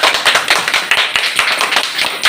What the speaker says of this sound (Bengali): তাই সবাই একটা হাততালি দিয়ে দাও।